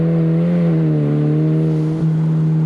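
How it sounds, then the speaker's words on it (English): A car engine holds a steady loud drone with a slight dip and recovery in pitch as the car drives fast, close and dominant, with no talking. "This car, it's still a really fun car to drive."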